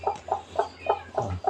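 A chicken clucks in a steady series of short, close calls, about six evenly spaced bursts, with no talking, near a spot where eggs have been laid.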